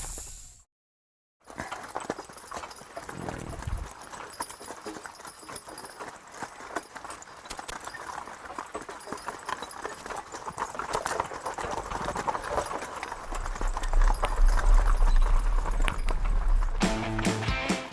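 Two horses pulling a load clip-clop steadily on a hard surface, their hooves close and rhythmic throughout, with a low engine-like rumble building near the end.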